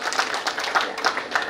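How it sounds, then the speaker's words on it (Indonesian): A few people clap at an anniversary celebration of an Indonesian workers' union, a light, uneven patter of handclaps, fairly close and brief, with no voices over it. "Tepuk tangan dulu untuk kita semua."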